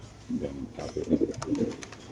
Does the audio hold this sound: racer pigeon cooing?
yes